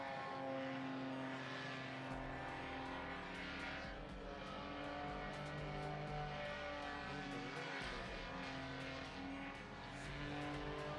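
A Sky 150 serial-class paramotor engine flies a slalom competition run at a world championship, giving a steady, droning propeller buzz with wavering pitch as it passes, continuous and fairly distant throughout.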